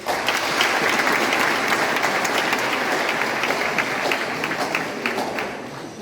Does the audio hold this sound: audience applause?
yes